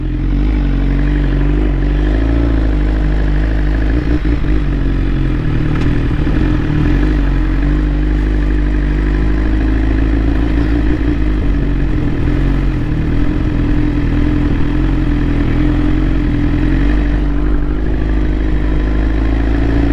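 A big bike motorcycle being ridden at a moderate pace, its engine holding a loud, steady drone under rushing road and wind noise throughout.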